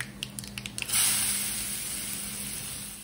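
Chopped onion with asafoetida and turmeric hits a hot pan and bursts into a loud, steady sizzle after a few clinks, then keeps hissing evenly.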